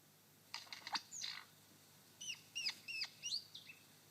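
A lyrebird in a forest mimics a whip bird, giving sharp whip-crack calls and short high chirps in scattered bursts, fairly faint, with no talk over them.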